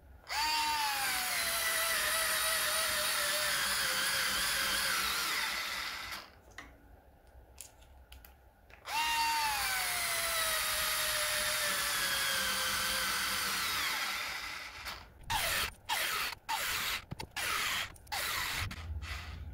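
Bosch GO 2 cordless screwdriver driving a 4.5x35 mm screw: a loud, steady motor whine with falling pitch as the screw seats, repeated in two long runs, then a series of short stuttering bursts near the end.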